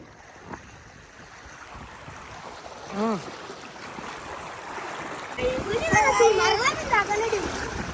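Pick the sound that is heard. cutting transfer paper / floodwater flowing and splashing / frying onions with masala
floodwater flowing and splashing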